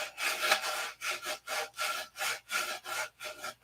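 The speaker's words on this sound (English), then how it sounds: "open hand sanding" Open-hand sanding with a new, longer sanding block and fresh sandpaper on an aircraft surface, heard as steady rhythmic back-and-forth scraping strokes, about two per second, close and fairly loud with no talking.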